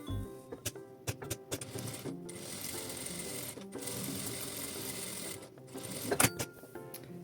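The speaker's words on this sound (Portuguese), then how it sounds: "Passo uma costura em cima da minha marcação." A sewing machine runs a seam across a hand towel along a 2 cm marking, its motor whirring steadily with short stop-and-start pauses and a sharper clunk near the end, close and alone.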